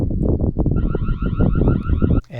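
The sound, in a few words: Reolink TrackFlex Floodlight camera alarm siren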